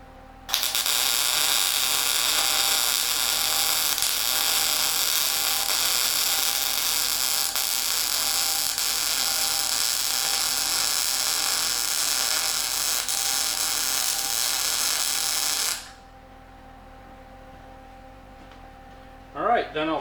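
A MIG welder runs a bead on a 1940s Chevy passenger-car shock absorber being rebuilt, giving a loud, steady buzzing crackle for about fifteen seconds before cutting off into quiet hum.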